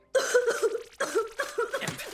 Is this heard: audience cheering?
no